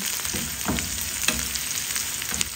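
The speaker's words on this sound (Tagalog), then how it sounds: "Igigisa ko muna ito para lumasa na ito dito sa ating oil." Three onions sauté in hot oil in a pan: a steady, close sizzle with scattered sharp clicks and scrapes from stirring, and no talking.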